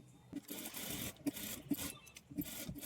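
A sewing machine stitches canvas onto a blouse lining along its edge, giving a close, steady mechanical whirr with rhythmic thuds about every half second.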